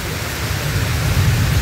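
Heavy rain pours down in a steady, loud, dense roar with no breaks and no voices over it.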